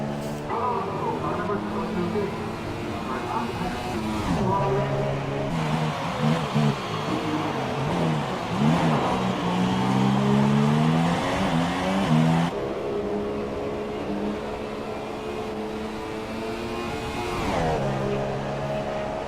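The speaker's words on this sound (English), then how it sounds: "Social Mute is doing his run on the ultra soft tires" Race car engine on ultra soft tires during a timed lap in a racing video game, whining and rising through gears with pitch sweeps and shifts, steady and loud beneath continuous commentary.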